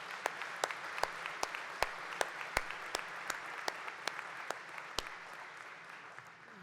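An audience at a Ferris State University fall commencement ceremony claps in a soft, steady patter, with a few sharper nearby claps standing out.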